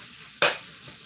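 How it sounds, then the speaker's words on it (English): A single brief scrape of a utensil across the bottom of a skillet, loosening browned bits amid a low background sizzle, one short loud burst then quiet. "scraping the brown bits in the bottom of the pan"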